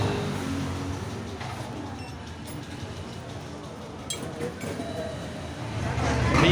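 A metro train at a Metro Plus station makes a continuous broadband rumble with faint clanks and squeaks, then swells louder toward the end as it nears.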